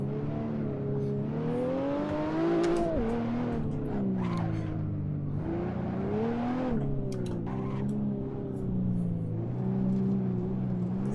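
A BMW 1M with a Stage 3 tune climbs a hill, its engine revving hard and continuously, the pitch rising and falling through the gears, with bursts of wheelspin and scrabbling tyre noise.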